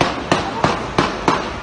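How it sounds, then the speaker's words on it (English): Four sharp gunshots crack out on a Chicago street in the daytime near 26th and Lawndale, evenly spaced about a third of a second apart, loud and close with a short decay after each. "Y'all hear those gunshots, right? In the middle of the day."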